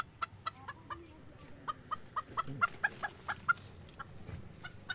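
A hen clucks in a rhythmic run of short, sharp calls, about a dozen spaced across several seconds, moderately close against a quiet outdoor background with no talk.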